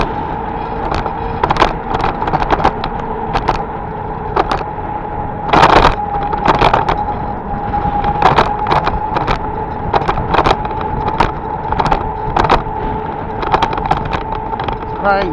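A car rolling over a rough, bumpy road at low speed, with a continuous loud rumble from the cabin, repeated knocks and rattles as the wheels hit bumps, and a voice talking over it.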